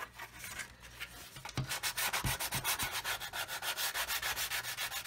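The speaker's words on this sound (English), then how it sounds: "That 100 grit is a bit coarse actually, it leaves some heavy sanding marks" Hand sanding on a Tamiya 1/16 scale RC Sherman tank model with coarse 100 grit sandpaper: a few scattered scrapes, then a steady run of rapid, evenly spaced rasping back-and-forth strokes, close and fairly loud, no voices.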